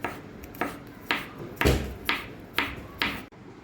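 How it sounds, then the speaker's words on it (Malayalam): Close knife chops on a board as garlic is cut finely, about seven crisp strikes in a steady, unhurried rhythm with no voices. "ഇനി നമുക്ക് ചെറുതായി വെളുത്തുള്ളി അരിഞ്ഞെടുക്കാം."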